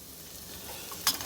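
Onions fry and get stirred in a pot for French onion soup, producing a soft, steady sizzle with a brief brighter scrape of stirring near the end and no talking.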